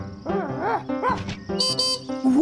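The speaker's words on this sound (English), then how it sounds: "It's a puppy dog." A cartoon puppy barks in a series of short, high yips and whimpering bow-wows, close and clear over faint background music, with no talking.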